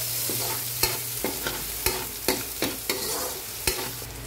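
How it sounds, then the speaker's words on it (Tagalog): Chopped onions stirred and sizzling in a frying pan, the start of a Filipino corned beef dish, with steady frying hiss broken by repeated sharp scraping clicks of a spatula against the pan, nearby and without talk. "siginasanan natin ang ating sibuyas"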